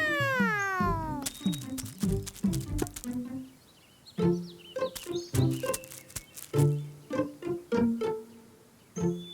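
Animated cartoon cat meowing repeatedly in a children's moral story, a series of clear, close mewing calls with varied pitch, some sounding stylized or voiced.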